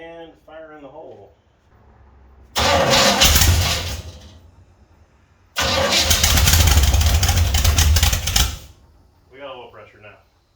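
A rat rod's engine is cranked after a distributor adjustment, with two long, loud whirring cranking bursts separated by a pause, and people talking briefly before and after.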